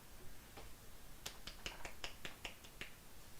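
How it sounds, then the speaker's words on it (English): A few soft, sparse claps in a slow uneven rhythm, about ten light taps, close and quiet over faint room noise. "Golf clap."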